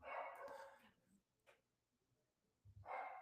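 A pug dog around 13 or 14 years old barks, with two short bursts of barking at the start and end separated by quiet, fairly faint and slightly distant.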